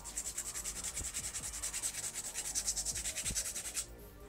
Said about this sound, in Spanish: Voy a pasarle lo que es la lima.